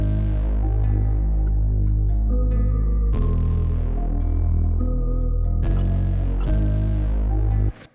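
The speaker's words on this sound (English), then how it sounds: "I believe this is an analog synth bass from Carl Beats Galaxy One Shot kit" Deep analog synth bass from a one-shot kit, pitched down an octave, droning continuously beneath a sustained melody in a drill beat, loud and full, shifting notes every few seconds before cutting off abruptly at the end.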